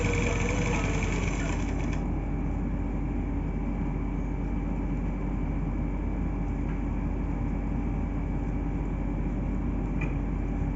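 A sewing machine runs continuously while stitching the border onto a blouse, giving a steady, close mechanical whir with a rapid needle rhythm throughout and no pauses.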